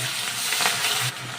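Onion paste with whole cumin and green chilli frying in mustard oil in a wok while being stirred, a steady close sizzle with light scraping, no talk.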